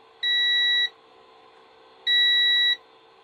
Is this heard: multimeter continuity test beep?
yes